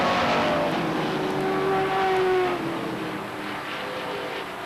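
Race cars at Beech Ridge Motor Speedway in 1993 on the last lap of a weekly feature race, a continuous loud engine roar with a rising drone as cars pass, sustained throughout without talk.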